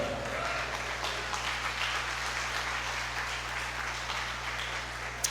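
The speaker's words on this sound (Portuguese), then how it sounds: "Aplauda Jesus de Nazaré." Steady, sustained applause from a church congregation fills the room at an even level over a low hum, continuing without a break and with no speech on top.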